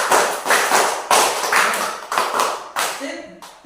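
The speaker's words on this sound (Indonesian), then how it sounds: "Tepuk 1, tepuk 2, tepuk 3, tepuk 4, tepuk 5, 2 kali tepuk 5." A class of students claps a counted rhythm pattern, close and loud: sharp, repeated bursts of hand claps in groups, each burst fading before the next, with voices talking along.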